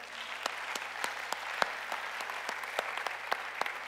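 A church congregation claps steadily and fairly loudly, a sustained wash of many hands with a few sharper individual claps standing out, and no voices over it.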